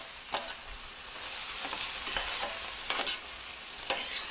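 Escarole cooking in a pan makes a continuous soft sizzle and frying hiss, with a few brief stirring scrapes and clinks breaking through at intervals, close and moderately loud, with no talking.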